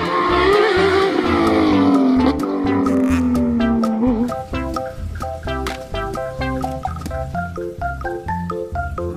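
A toy race car plays a loud engine and tire-squeal effect with a falling pitch, then a bright electronic jingle of repeated beeping notes.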